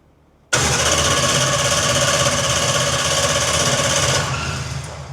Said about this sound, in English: Cranking timing is set to 15 degrees, and I'm gonna hit it, and Justin's gonna check it.